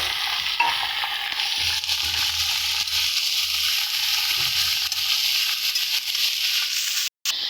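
Mixed vegetables frying in a pan, a loud continuous sizzle with soft stirring scrapes and shuffles underneath, steady throughout before a brief cut near the end.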